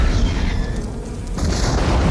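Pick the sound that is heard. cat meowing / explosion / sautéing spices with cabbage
explosion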